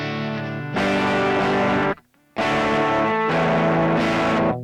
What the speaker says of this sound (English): You can add an overdrive in after the fact.